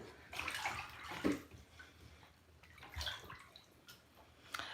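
Lemon water is poured nearby, a faint soft splashing trickle with a few gentle drips, quiet and without talk.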